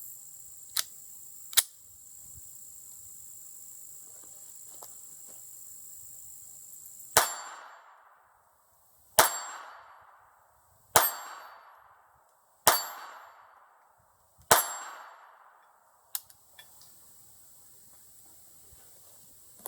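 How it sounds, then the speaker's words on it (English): A Bayard 1908 .32 ACP Belgian pocket pistol fires five rounds at an 8-inch steel plate 7 yards away, each sharp shot followed by a ringing metallic clang, evenly spaced about two seconds apart. "an 8-inch plate set up here at 7 yards, and I'm going to shoot this little Bayard"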